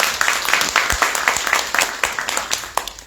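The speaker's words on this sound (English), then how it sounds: "Let's give Ms. Bell a round of applause for her leadership." An audience at a community conversation event gives an honoree a brief, lively round of applause. The clapping is close and dense and fades slightly toward the end.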